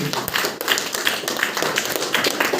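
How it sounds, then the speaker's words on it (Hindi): Loud, dense applause from a seminar audience at a business success program, steady crackling clapping filling the whole stretch, with no one speaking over it. "एक जोरदार ताली नायक की"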